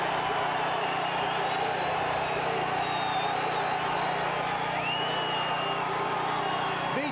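Crowd at a 1992 NDSU Bison college football game against Pittsburg State rumbles steadily throughout, a broad wash of distant cheering and murmur with occasional whoops, loud and continuous for about seven seconds.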